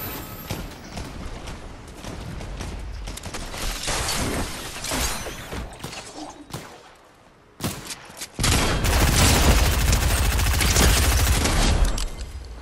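Dense video game gunfire, sustained overlapping shots and rattling bursts with heavy battle noise, dipping briefly before surging back loud and continuous.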